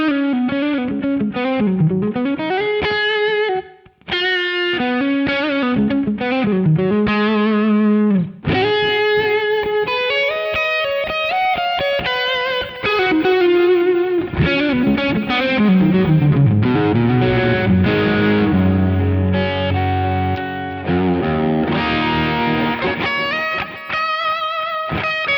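Electric guitar through a Valeton GP-5 multi-effects unit set to a Matchless DC amp tone, a long passage of lead lines, bends and chords with crunchy, slightly distorted drive, loud and continuous with no voices.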